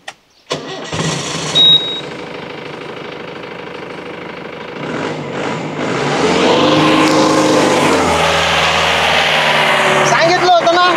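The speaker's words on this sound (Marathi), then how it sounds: "मी गाडी चालू करीन" A vehicle engine cranks and catches, then settles into a loud, steady running drone close by, with people talking over it.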